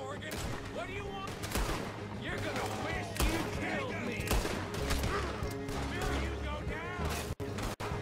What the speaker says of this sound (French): la carabine ça fait plus mal